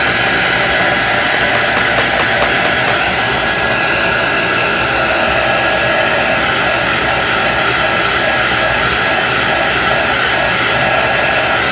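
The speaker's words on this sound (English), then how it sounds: "this is a heat tool that's mostly used for embossing, but I use it for drying paint and chalk paste" A heat tool made for embossing, used here to dry chalk paste on a craft transfer, blows with a loud, steady, close hiss and whir that holds unchanged for about twelve seconds.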